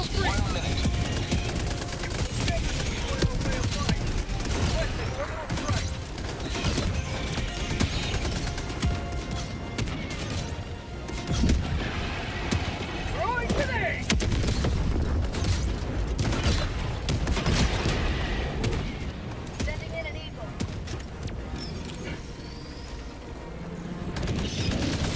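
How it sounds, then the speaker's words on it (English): In the video game Helldivers 2, mortar shells explode amid a constant battle of rapid gunfire, crashes and booms that run dense and loud throughout. Players talk over the chaos. "How many rounds do those mortars have?"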